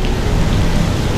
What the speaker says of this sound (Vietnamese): hôm nay mưa anh em ạ